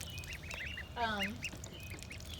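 Ducklings quacking in a short burst of several soft, close calls over faint background noise.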